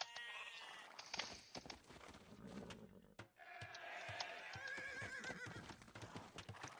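Sheep bleat and a horse whinnies in a real-time strategy game match, amid clip-clop hooves and busy game effects, fairly faint and continuous with no talk.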